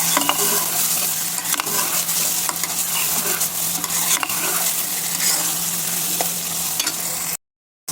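Spice mixture for a chicken dish stirred in a hot pan, a steady close scraping and sizzling that runs continuously before cutting off abruptly near the end.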